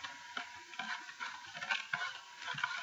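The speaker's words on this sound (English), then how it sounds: "add your half cup of sugar to this, and just stir that up until it dissolves really nicely. Make sure you're scraping the bottom again." A spoon stirs sugar into a pot of tea for boba, scraping the bottom in a steady run of soft scratching and tapping strokes, close and moderately quiet, with no talking.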